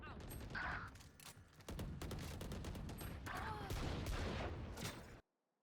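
Gunfire in the tactical shooter Valorant rattles in loud, dense bursts of rapid shots, with some ringing effects layered in, then cuts off abruptly into silence.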